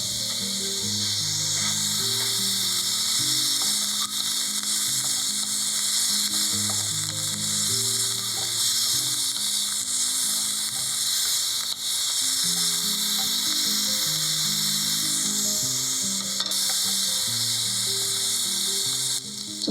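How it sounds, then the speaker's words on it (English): Paneer cubes fry in hot sunflower oil, giving a steady, continuous sizzle and crackle close up, with faint stirring underneath. "The first thing is I need to fry the paneer on the oil and keep it aside."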